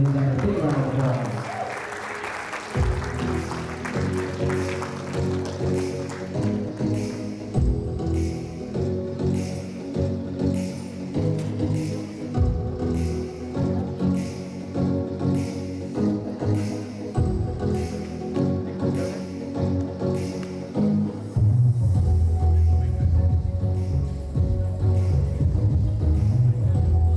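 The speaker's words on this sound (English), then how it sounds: "let's give a big round of applause for all those wonderful speeches" Wedding reception guests applaud the speeches, sustained clapping running throughout under music with a steady beat, the sound staying loud and continuous.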